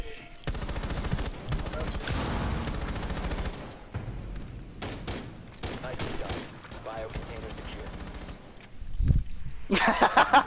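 Rapid bursts of AA-12 automatic shotgun fire in Rainbow Six Siege fill most of the stretch, loud and close, with a pause partway through and a final flurry at the end; brief voice-like sounds are mixed in.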